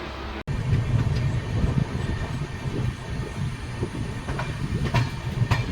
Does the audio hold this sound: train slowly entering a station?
yes